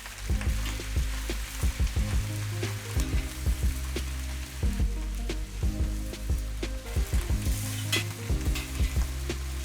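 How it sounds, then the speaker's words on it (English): Meat frying loudly in a pan, a dense crackling sizzle with repeated thuds and scrapes of a utensil turning the pieces, no talking. "I fry the meat for an average of 5 minutes."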